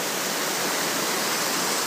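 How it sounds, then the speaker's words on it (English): Water rushes loudly and steadily through an open sluice gate channel toward a water wheel, a dense, close roar with no other sounds. "we open up the sluice gate and the water races down there to a water wheel"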